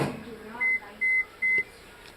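A kitchen timer gives three short, bright electronic beeps in quick succession as it is set, close and clear over faint room noise, with no talking.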